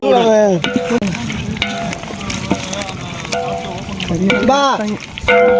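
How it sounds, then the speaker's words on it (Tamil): Biryani is stirred in a large cooking pot with scraping, sizzling strokes, while people talk loudly and steadily over the cooking. "வேமா கிண்டு"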